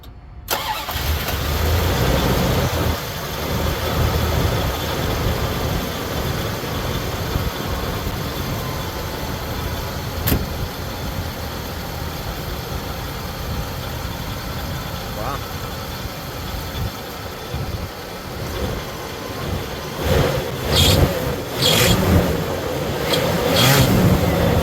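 A Dodge D100 pickup truck's engine cranks, catches and settles into a steady rough idle close by, with someone speaking intermittently over the running motor.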